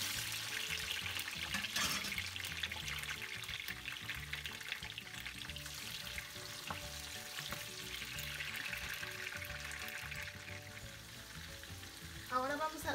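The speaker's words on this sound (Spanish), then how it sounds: "Ahora en el mismo aceite vamos a freír el tomate y la cebolla." Tomato and onion frying in oil left over from frying chicken: a continuous crackling sizzle at moderate level, with a faint low hum and a brief clink near the end.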